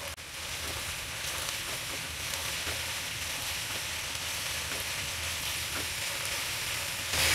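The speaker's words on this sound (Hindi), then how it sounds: "हम हाई फ्लेम पर अच्छी तरह से सब्जियों को फ्राई कर लेंगे" Mixed vegetables frying in a pan over a high flame: a dense, even sizzle that carries steadily throughout, slightly louder toward the end, with no voices.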